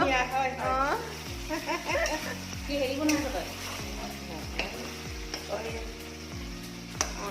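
Assamese pork curry sizzles in a pan as it is stirred, with a steady frying hiss and soft scraping throughout, partly under tonal background music.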